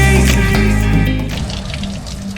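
Shower water running steadily and close while feet are washed under it in a shower near a cave on Majorca, a dense continuous splashing hiss.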